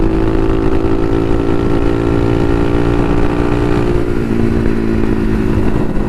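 A Bashan Motomax 250 supermoto motorcycle engine runs steadily and loud throughout, a close, continuous droning hum whose pitch dips slightly partway through, with no voices.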